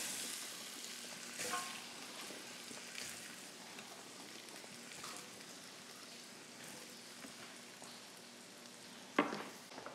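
Potatoes fry gently in a skillet of leftover bacon grease, a quiet steady sizzle with a few scattered pops and a sharp clatter near the end, no talking.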